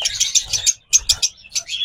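Small caged birds chirp in a bird seller's shop, with quick bright bursts of close, high twittering separated by short pauses.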